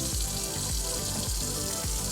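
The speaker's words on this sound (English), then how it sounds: "Turn the water on. Want to make sure you get some good water in there," Water gushes from a tap into an RV holding tank, a steady hissing, splashing flow with faint rhythmic gurgles, close and fairly quiet, with no talking.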